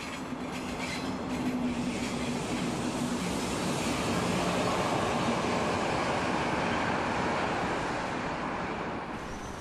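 Train rolling across the Marienbrücke over the Elbe in Dresden, a steady close rumble with rhythmic wheel clatter on the bridge track that continues unbroken, no voices.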